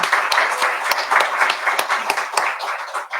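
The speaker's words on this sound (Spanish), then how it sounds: "un fuerte aplauso a Claudia Dir" Audience applause for a speaker at a talk on shifting global alliances, a dense crowd of clapping hands with sharp individual claps standing out, steady and fairly loud across the whole stretch.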